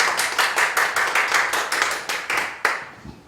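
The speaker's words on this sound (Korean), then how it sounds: "박수 부탁드립니다." An audience claps at a church charity concert, sparse and rhythmic, with distinct loud individual claps close by that thin out and stop near the end.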